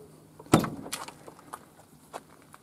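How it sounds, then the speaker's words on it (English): The rear-hinged suicide door of a custom Delahaye Shooting Brake opens with a sharp metallic latch click, followed by softer handling clunks and small knocks, heard close up. "Open the door here."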